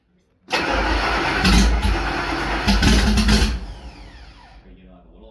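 A car engine roars loudly and close for about three seconds as the throttle is opened, surging twice before dropping back and fading toward idle.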